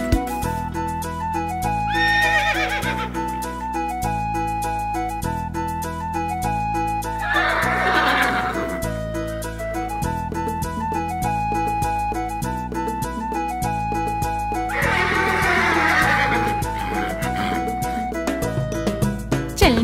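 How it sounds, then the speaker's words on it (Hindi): Horse neighing sound effects rise over a bright, steady children's rhyme melody, with repeated whinny bursts and a clip-clop feel riding along with the music throughout. "चल मेरे घोड़े टिक टिक टिक"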